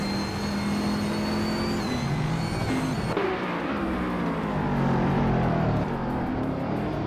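A 2009 Aston Martin 177 supercar engine roars steadily in a racing video game, a loud sustained drone with shifting pitch as it accelerates, plus a brief higher whine early on and no talking.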